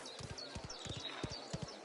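Horse hooves clip-clop at a walking pace in the video game Mafia: The Old Country, a run of soft, fairly quiet thuds under faint ambient background.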